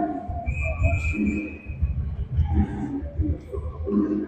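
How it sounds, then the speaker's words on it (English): A sharp referee whistle shrills across a noisy junior hockey arena crowd, with a commentator talking over the steady roar. "Lots of whistling going on."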